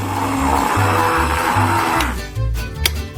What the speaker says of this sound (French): Il faut broyer les graines de café en poudre.